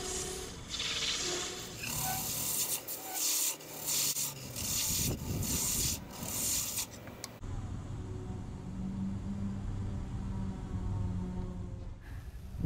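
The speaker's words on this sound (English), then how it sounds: "this gives me a place to insert my spindle gouge, which I use to hollow the ball" A spindle gouge hollows out a billiard ball spinning on a lathe, giving a continuous close rasping, scraping hum that shifts in tone partway through as the cut changes.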